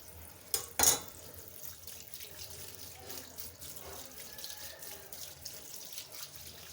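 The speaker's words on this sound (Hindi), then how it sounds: "इसके ऊपर ठंडा पानी लाजमी डाल दें ताकि ये आपस में जुड़े ना।" Cold tap water runs over freshly boiled macaroni in a kitchen sink, a steady hissing splash after a couple of sharp clanks, moderately close and fairly quiet.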